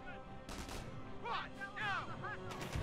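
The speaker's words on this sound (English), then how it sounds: "I wonder if we can like lure them into the range of the machine gun." Scattered gunfire and explosions crack through a Company of Heroes battle, with sharp shots and booms at intervals amid chaotic combat noise and a voice briefly talking.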